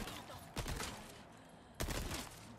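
Two loud shotgun blasts about a second apart in the Resident Evil 4 Remake video game, each a sharp broadband crack with a short decaying tail, over a steady game-ambience bed.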